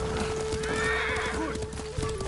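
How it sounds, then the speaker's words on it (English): A horse neighs and whinnies loudly in the video game Ghost of Tsushima, with hooves clip-clopping beneath it and a steady tone running through the game soundscape. "Horse!"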